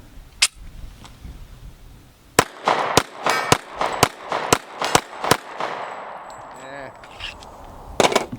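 A 1911 pistol with a firing problem fires a rapid string of about eight loud, sharp shots, mostly in a steady cadence, with a couple of isolated shots before and after.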